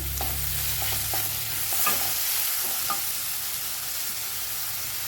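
Okra masala tempering fries in a pan with tomato and chopped coriander, a steady sizzle broken by several scraping stirs, close and clear with no voices.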